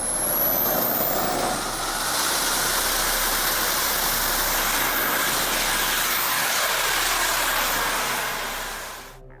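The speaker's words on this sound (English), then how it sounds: "It was only a matter of time until somebody built an actual jet-powered drone." Jet turbine roar from the AB-5 prototype drone, powered by four microturbines, a loud continuous broadband whine and rush that holds steady for about nine seconds before cutting off.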